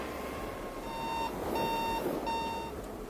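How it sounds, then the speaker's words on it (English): A Darkness Bot phone app alarm on an Inmotion V13 electric unicycle sounds a repeating series of high electronic beeps in short bursts, heard over a steady rush of wind and riding noise. "I'm running darkness bot just on the phone, and that's that first alarm kicking in"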